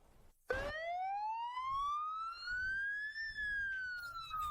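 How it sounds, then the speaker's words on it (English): An ambulance siren wails loudly and alone as it arrives at a hospital, its pitch sweeping steadily upward and then falling after a sharp onset. "Ambulances are arriving at the hospital one after another"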